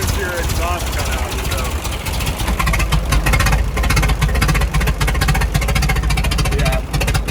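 Crank-start Packard engine runs with its exhaust cutout open, giving a loud, continuous, rough low rumble close by, with voices talking over it.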